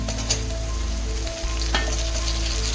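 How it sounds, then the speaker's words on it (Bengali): Chopped tomato goes into softened onions in a hot pan, giving a loud, steady sizzle and fry with stirring scrapes throughout and no voices. "এবার এর উপরে দিয়ে দিচ্ছি আমি টমেটো কুচি।"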